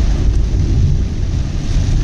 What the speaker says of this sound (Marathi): एवढा पाऊस पडतोय ना, भयंकर पाऊस पडतो इथे